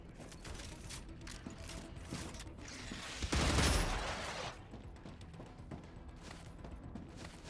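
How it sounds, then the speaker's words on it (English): A gun's magazine being changed in the StarRupture video game: soft mechanical clicks and ratcheting, then a brief loud burst of gunfire midway, all over a busy in-game ambience. "Changing mags."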